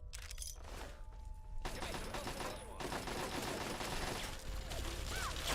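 Fallout 3 game gunfire in a crossfire between bandits, a continuous rattle of rapid shots and mechanical clatter kept at a low level. Voices talk now and then.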